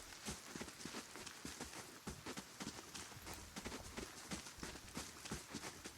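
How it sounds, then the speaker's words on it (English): Character footsteps on dry dirt in the video game Pillars of Eternity on a rainy day, a quick, steady run of soft crunchy steps over a faint rain-like background hiss. "I'm kind of glad that it still has the dry dirt noise of the footsteps."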